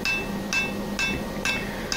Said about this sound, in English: now I'm hammering on its edges. I'm hammering flat on the anvil